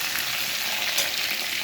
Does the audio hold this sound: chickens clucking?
no